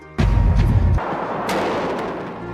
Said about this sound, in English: Baghdad tonight, under heavy bombardment, on the day the war started.